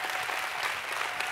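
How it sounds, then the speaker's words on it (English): Church congregation clapping in a steady, dense burst during a worship service, close and fairly loud, with no voices over it. "Come on, we can clap that up. Clap it up."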